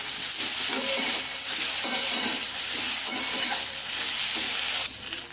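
Radhuni and ginger paste are stirred in a hot pan, with a steady close sizzle and repeated rhythmic scraping strokes about every half second, the sizzle brightening briefly at the very end.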